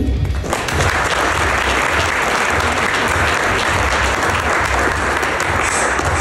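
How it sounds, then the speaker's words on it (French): Dense, loud applause fills the hall at a Masonic gala, a continuous crowd of many hands clapping at close range for the whole stretch. "Donc on peut aussi vous applaudir."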